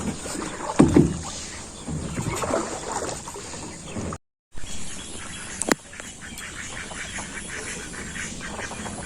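A small village boat moves through floodwater, with close, irregular splashes and knocks of a pole or paddle, a brief dropout midway and a few faint bird calls behind.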